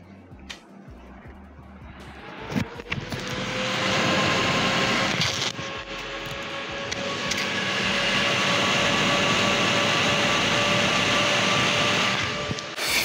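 A GTX 970 graphics card fan spins up into a loud, steady whooshing roar with a faint tonal whine, like a small jet turbine, sustained after a few clicks.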